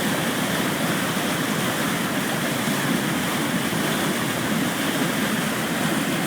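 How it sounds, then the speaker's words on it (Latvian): Water gushes down onto a Bayliner 2452 boat inside a Göta Canal lock, a heavy, unbroken roar of falling water heard up close and steady throughout. "Draudīgs ūdens gāzās virsū."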